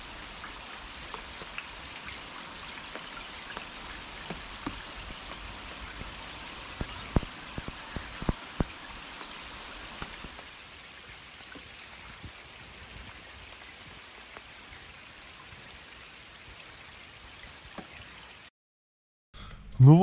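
Rain patters steadily onto the castle lake at Trakai around an inflatable rubber boat, scattered drops ticking louder in the first half, then thinning to a soft hiss as the shower eases, ending in a brief near clatter.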